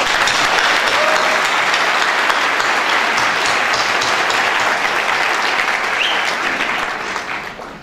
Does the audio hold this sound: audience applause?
yes